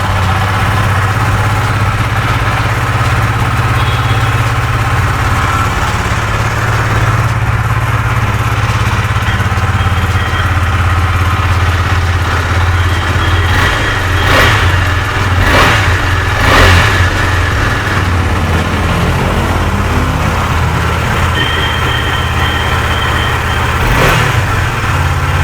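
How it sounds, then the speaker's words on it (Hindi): A 2022 KTM Duke 250 motorcycle engine idles with a steady low throb, rising in a few short revs midway and again near the end, loud and close. "ताकि कोई ये ना कहे कि बाइक की साउंड तो सुनाई नहीं"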